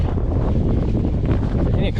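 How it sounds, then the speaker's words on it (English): Strong gusts buffet the microphone in a steady low roar, wind rushing continuously across the open air below a dam while fishing, without pause. "It's windy out here too."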